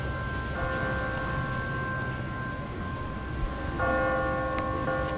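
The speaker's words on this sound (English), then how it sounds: "What kind of church bell goes off at 20 past the hour?" An automatic church bell rings on a timer, its sustained metallic tones overlapping and layered over steady background noise, with a fresh strike adding brightness near the end.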